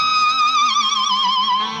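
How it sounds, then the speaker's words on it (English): An electric guitar dives with the whammy bar, a sustained effects-laden tone that wobbles in steady vibrato while sliding slowly downward in pitch, loud and alone for about two seconds. "you're going to have your whammy bar"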